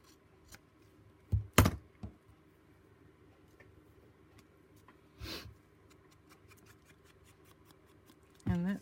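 Scissors snip paper a few times, with a quick pair of cuts, a later single cut and one more at the end, all close and crisp over a quiet room.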